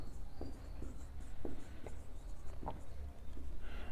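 Pen or marker writing during a maths lesson, giving faint, scattered scratchy taps and short strokes over a steady room hiss, with no talking.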